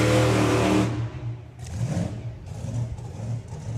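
A vintage drag racing car at Santa Pod Raceway, running for the first time in years, opens with a loud, rough engine roar that drops abruptly, then gives several shorter revving bursts close by.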